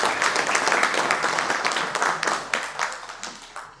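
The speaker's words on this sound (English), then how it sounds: "Please give a big round of applause to Mr." Applause from an audience at a cyber security talk as a speaker is welcomed, an uneven burst of many claps, loud at first and thinning toward the end.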